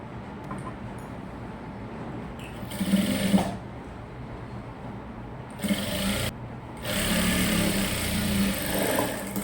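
A sewing machine stitches a sleeve onto the body of a short gown, running in three separate bursts of steady, close whirring, the last one longer, with quiet pauses between them.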